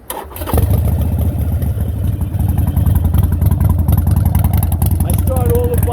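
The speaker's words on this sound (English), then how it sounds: "Let's start her up." A 2017 Harley-Davidson 883 Iron motorcycle with 4,700 miles starts from cold: a brief crank, then the engine catches and settles into a loud, steady, close idle rumble.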